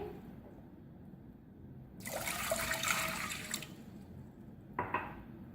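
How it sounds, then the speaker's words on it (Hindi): Water poured into a pot to make sugar syrup for a sweet dish, a short splashing pour of a few seconds followed by a brief second trickle, fairly quiet and close. "2 कप पानी शामिल करेंगे।"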